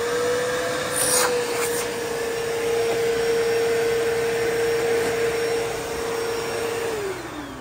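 A secondhand vacuum cleaner at a Goodwill store runs steadily with a loud, constant motor whine that holds one pitch, then drops off as it begins to wind down at the end.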